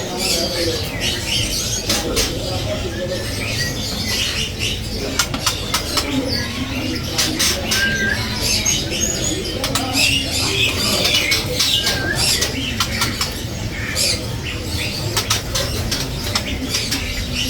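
A male magpie-robin (murai) calls in a cage setting, with repeated sharp chirps and whistles scattered over steady background noise, moderately close and lively throughout.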